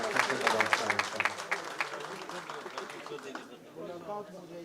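Audience clapping to welcome a speaker at a district bar association election gathering, crisp claps strongest at the start then thinning out, with voices talking underneath.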